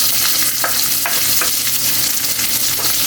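Onion, garlic and ginger sauté in hot oil in a pan for squid and tofu adobo, giving a loud, steady sizzle with occasional stirring scrapes and no talking.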